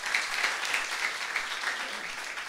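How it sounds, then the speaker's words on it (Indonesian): A church congregation applauds at an Indonesian evening prayer service. The clapping is warm and dense, moderately loud and steady throughout, and no one speaks over it. "Tepuk tangannya meriah buat Yesus."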